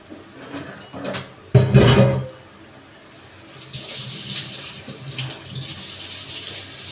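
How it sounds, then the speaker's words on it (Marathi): Water gushes and splashes from a tap during kitchen cleaning, with a loud burst of pouring water followed by steadier running and spattering as surfaces are rinsed. "साईडवर असं पाणी मारून साबणाचं पाणी मारते आणि मग धुवून घेते"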